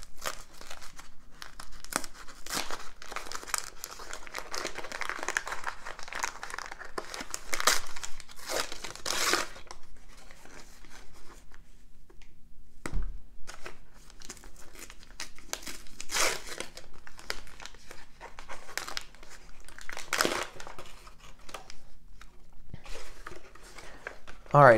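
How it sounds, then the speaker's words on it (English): Paper wrapping inside a bandage package being unwrapped, with steady crinkling and crumpling and a few tearing bursts throughout, close and fairly loud, while a person talks intermittently. "So we actually have one more layer of wrapping inside of paper."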